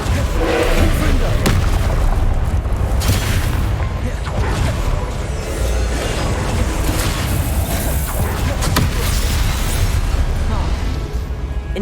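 Repeated Confringo fire-explosion spell blasts in the Hogwarts Legacy video game, dense booming bursts over a continuous loud rumble of combat, with a voice calling out spell names throughout.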